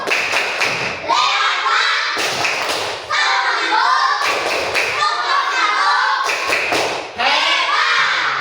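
Children in an Indonesian classroom clap together in rhythmic bursts, several sharp group claps repeating about every second and a half, loud and close throughout.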